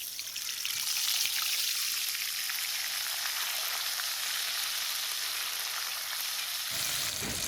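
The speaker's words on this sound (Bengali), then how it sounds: "এই বাটা মশলাটা এখন আমি দিয়ে দিলাম।" Ground spice paste of pepper, coriander and garlic sizzles in hot oil for a spicy taki fish curry, a loud, steady, close frying hiss that holds evenly throughout with no talking.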